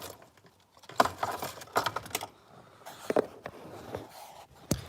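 Keys jangle inside a parked car, with a few separate bursts of metallic clinking and rattling that are fairly close and moderately loud over a quiet background.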